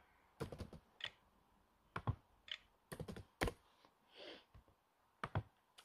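Quiet, irregular clicks of fingers typing on a computer keyboard, in short bursts with brief pauses between, close and alone.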